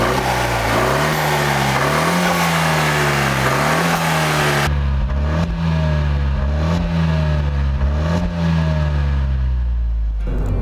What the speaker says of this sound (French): on a roulé quelques instants avec la Fiat 500S